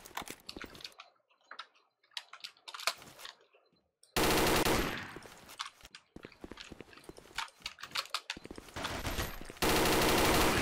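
FAMAS rifle fire in a first-person shooter comes as sharp single shots and quick bursts between quiet gaps, with two dense, loud stretches of sustained automatic fire.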